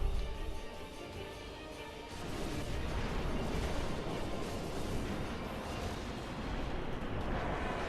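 A Chaos Grenade explodes in Final Fantasy X, filling the space with a loud, sustained broadband roar of blasts and rumbling debris that swells slightly after the first couple of seconds and continues without pause. No one speaks.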